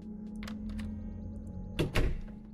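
A door in the horror game Fears to Fathom is handled in a quiet house, with light clicks and then a pair of close, thudding knocks as it shuts, over a low steady background hum.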